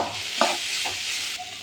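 Vegetables frying in a pan are stirred with a short scrape, their steady sizzle carrying on close and even underneath.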